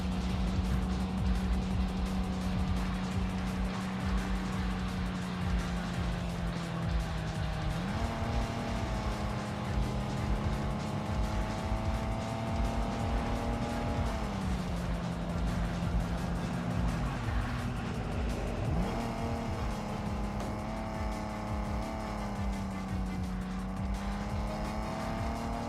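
A race car in a racing video game drones on with a steady, loud engine note that rises and drops through gear shifts, with a constant gritty road and tire roar underneath.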